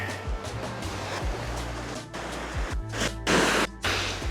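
Atlantic Ocean waves breaking and washing on a beach, a steady roar of surf with heavier crashing bursts near the end, close and fairly loud.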